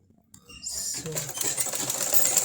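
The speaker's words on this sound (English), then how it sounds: "So I'm sewing the side of the closure down to the dome cap" A sewing machine stitches the side of a wig closure down to a dome cap, running in a steady close whir that starts about halfway through and holds to the end.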